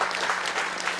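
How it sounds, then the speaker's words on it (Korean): Audience applause fills a community town-hall gathering held by the county governor in Yongmun-myeon, Yangpyeong, as a council chair is introduced; a dense, steady burst of many hands clapping, brief and fairly loud. "박수 한번 보내주십시오."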